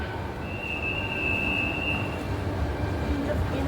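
Metro train running underground, a continuous rumble with a long high-pitched wheel squeal rising above it, with people talking nearby.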